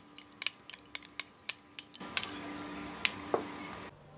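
A spoon mixes curd in a mixing bowl, tapping and clinking against the sides in a steady rhythm of sharp close hits, then a smoother scraping swirl with a few more knocks.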